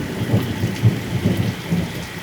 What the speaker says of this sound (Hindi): बादल की गरज चमक।